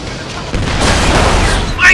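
A loud, deep booby-trap blast in Operation Flashpoint: Red River bursts out and sustains with rumbling debris, followed by a sharper crack near the end.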